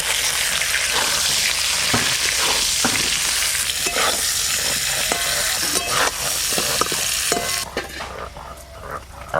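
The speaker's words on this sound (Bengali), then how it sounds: "এবার বেগুনগুলো ভেজে নেব।" Eggplant slices frying in hot oil seasoned with turmeric, salt and pepper, a loud, steady, close sizzle with occasional stirring and utensil scrapes, easing slightly near the end.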